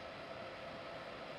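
A BR189 electric locomotive in Train Simulator 2016 begins to move, giving off a low, steady rumble and hum of rolling stock. The sound is faint, even and continuous, with no speech over it.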